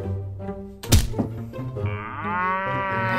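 A voice imitates a cow's moo, a short low call followed by a thump, then a longer drawn-out mooing tone.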